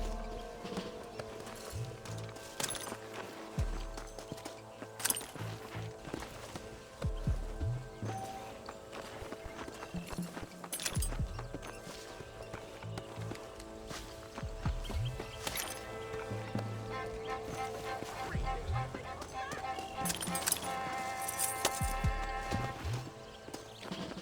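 Horse hooves clip-clopping steadily under a rider in the video game Red Dead Redemption 2, a continuous rhythmic gait running beneath a layered music and ambience bed.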